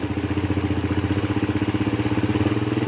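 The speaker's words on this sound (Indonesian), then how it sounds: "Kita besarkan gasnya dulu dengan mengencangkan baut gas." A motorcycle engine idles fast and even after its carburetor throttle screw is tightened, a close, loud, rapid pulsing putter that holds steady without any talk.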